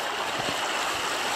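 A wild river flows steadily nearby, a constant close rush of water with a broad even texture and no breaks.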